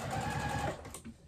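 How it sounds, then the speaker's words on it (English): A sewing machine stitches a tote bag lining in a quick, steady burst close by, then slows and stops after about a second. "And as you're stitching, you're just pulling the main lining piece out of your way"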